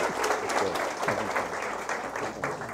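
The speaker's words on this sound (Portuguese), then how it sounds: "Vamos, portanto, receber com aplauso Carlos Rodrigues Brandão e o Ivan Capelato" An audience applauds to welcome speakers at a lecture event on marriage, a moderate, fairly close patter of many hands clapping that runs throughout without speech.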